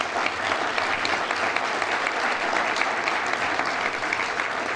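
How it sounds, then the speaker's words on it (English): A live audience applauds sponsors at an evening event, a dense, steady wash of many hands clapping that fills the whole stretch without a break. "And so a round of applause for all those sponsors."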